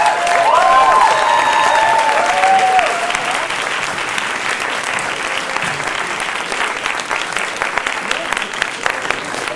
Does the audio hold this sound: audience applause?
yes